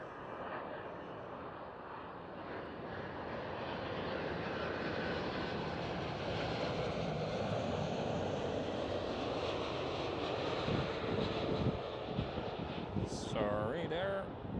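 KLM Boeing 777 at Amsterdam Schiphol, heard as a steady broadband jet roar that swells and holds through the clip, with faint nearby talk near the end.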